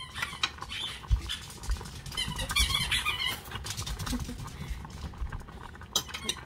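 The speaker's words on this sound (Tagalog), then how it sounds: "Kumulo na ang ating gulay." A pot of Bisaya-style vegetable soup with squash bubbles and patters as it boils, mixed with light clinks and scrapes of utensils against the pot.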